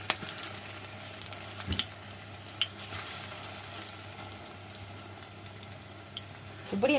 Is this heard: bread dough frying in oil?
yes